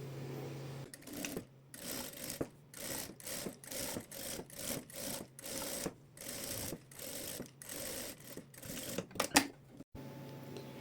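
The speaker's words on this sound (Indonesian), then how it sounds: "kita jahit 1 cm di sini ya" A sewing machine stitching a 1 cm seam on a two-sided pillowcase with ribbon: repeated bursts of fast, rhythmic mechanical chattering separated by brief pauses, close and clear, ending with a few clicks and no speech.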